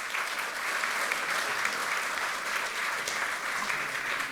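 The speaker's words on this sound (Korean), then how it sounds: "뜨거운 감사의 박수 부탁드리겠습니다." Steady applause fills a hall at a Democratic Party of Korea assembly of newly elected National Assembly members, an even, dense wash of many hands clapping at constant moderate loudness without pause.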